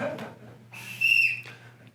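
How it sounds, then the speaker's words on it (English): One short, sharp whistle blast, clear and fairly close, at a controller showdown event at AHR Expo 2025, with a brief murmur of voices before it. "On my whistle, Scott, you may start again."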